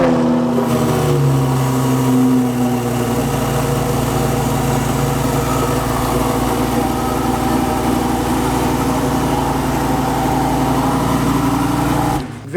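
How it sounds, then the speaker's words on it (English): Lamborghini Huracan Performante engine running loud and close with a steady, dense roar and rumble throughout, sustained without pause; the initial startup and throttle revving blend into a continuous high-pitched drone. "the initial startup of that Performante was just like a lion yelling at your chest"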